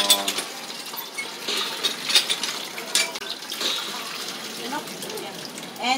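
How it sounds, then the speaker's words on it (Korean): Water drawn with a manual pump for a shower at a local beach house, with splashing and intermittent water gushes, metallic clanks, and people talking nearby. "수동식으로 이렇게 물을 펌프를 이용해서 퍼서 샤워를 하네요."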